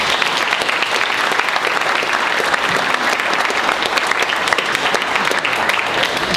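Loud, dense applause from the audience at a boxing press conference, sustained evenly with no talk breaking through.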